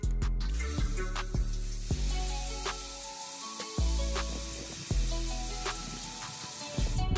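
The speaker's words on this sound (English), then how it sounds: "just nipping the valve stem out just slightly, just until it starts hissing" Air escapes from a Subaru tire's valve stem in a steady, continuous hiss that runs nearly unbroken for several seconds, with a tonal background layered underneath.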